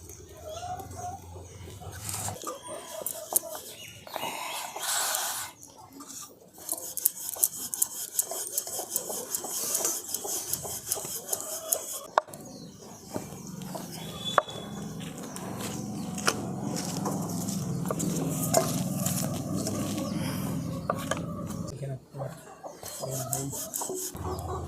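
Pumpkin paratha dough is rolled out with a rolling pin on a kitchen surface, giving soft repeated rubbing and rolling strokes with occasional light knocks and clinks, fairly quiet and close.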